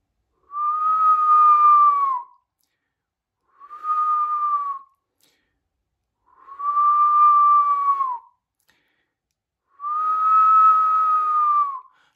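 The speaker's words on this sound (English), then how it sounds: "Notice every time I whistle," A person whistles with the lips alone, no fingers, sounding four sustained, clear tones in separate phrases of about one to two seconds each, with short silences between them, close and fairly loud.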